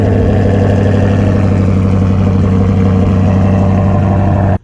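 A loud 4.3L V6 stroker engine in a Dodge Charger or Challenger runs steadily with a deep, throaty rumble after starting up, then cuts off abruptly at the end.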